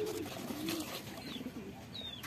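Pigeons coo softly at a distance in a quiet outdoor setting, with a couple of low murmuring calls and faint higher chirps over a dull background hum.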